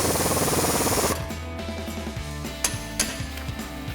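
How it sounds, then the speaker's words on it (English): A 14mm swivel socket and wrench tighten a bolt on a Jeep Wrangler JL sway bar kit, ratcheting in quick repeated clicks after a brief burst of broadband noise, close and distinct. "we're going to grab a 14mm swivel socket and wrench to tighten that down"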